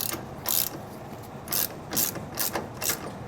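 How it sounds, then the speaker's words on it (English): A hand ratchet tightens a lock nut on a Roadmaster rear anti-sway bar on a 2017 Winnebago, giving several short bursts of close, loud clicking with brief pauses between strokes. "Then our washer and our lock nut. And then we'll go ahead and tighten that down."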